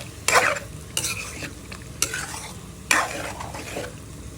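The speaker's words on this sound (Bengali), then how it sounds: "মশলাটাই ভালো করে কষাই নিচ্ছি" Spice paste stir-fried in a pan for a hilsa and mixed vegetable curry, a spoon sweeping through it in four or five distinct scraping strokes over a continuous close sizzle.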